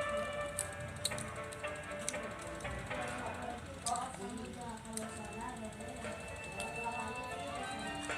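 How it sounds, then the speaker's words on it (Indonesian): Screws are fastened while an Oppo F1s phone is reassembled during a screen repair, giving a string of small, close ratcheting clicks and ticks from a screwdriver against steady low background noise. "Sudah selesai tahap sekarang untuk kasih baut."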